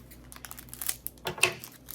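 A package being opened with scissors gives off quiet crinkling and snipping of packaging material, a few faint rustles building to one sharper crinkle near the end, with no voices heard.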